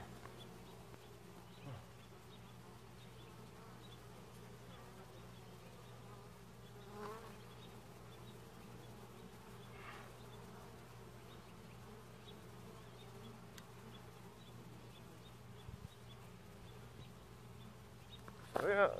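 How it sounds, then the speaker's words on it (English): A steady, dense hum of many bees buzzing close by around a hive in a 10-frame brood box, continuous throughout with faint occasional knocks and a brief louder bump at the end. "A lot of new bees here."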